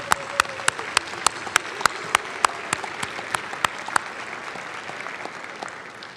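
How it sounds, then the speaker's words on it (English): Applause at a college commencement ceremony, a broad crowd clapping with a few sharp, louder claps standing out near the front, slowly thinning toward the end. "Please join me in giving them a round of applause."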